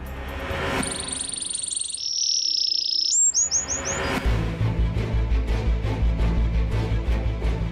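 Seized wild birds chirping, found for sale at a street flea market: a few high, thin tweets and quick rising chirps up close, then a louder stretch of mixed background noise with a steady low hum.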